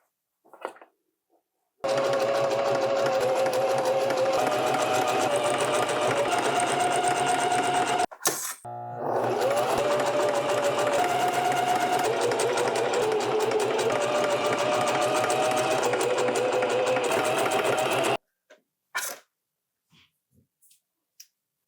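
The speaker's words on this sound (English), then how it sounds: "now I'm just going to do my zigzag stitches for both my arms, my armholes" A sewing machine runs zigzag stitches along the armholes of a t-shirt, whirring loudly and continuously in two long bursts separated by a brief pause, then stopping, with a few light clicks afterward.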